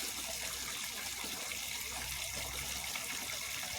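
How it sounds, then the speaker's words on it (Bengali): Water pouring steadily over a dog during a bath, a continuous close gushing splash with no breaks and no voices. "ইস স্নান করালে চোখ মুখ সব বন্ধ হয়ে যায়"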